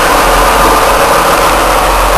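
Titan CG935G wheel loader engine running at a steady idle, a loud continuous low rumble and drone that stays even throughout with no talking.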